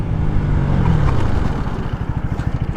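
A Bajaj Pulsar NS 200 BS-6 motorcycle braking hard from 60, its engine drone dropping in pitch and settling into a close, loud, rhythmic idle-like pulsing as it slows.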